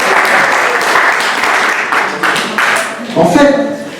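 Audience applause for a singer at a French-language gathering, a steady broad clapping wash with voices talking over it toward the end.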